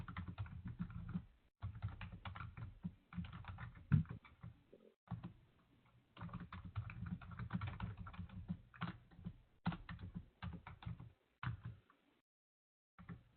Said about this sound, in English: I'm typing some numbers here.